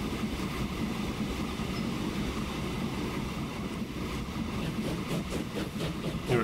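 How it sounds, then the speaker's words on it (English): A freight train on an iron ore line in the video game Transport Fever rumbles steadily through the whole stretch, a dense, even rolling roar with no voices over it. "The first train."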